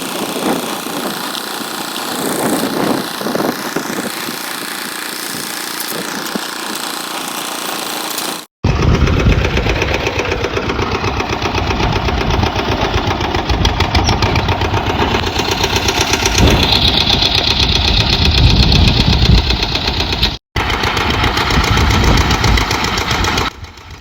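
A borewell motor removal machine runs its engine while slowly pulling pipe out of a well, a loud continuous mechanical drone with vibration and knocking, briefly cutting out twice.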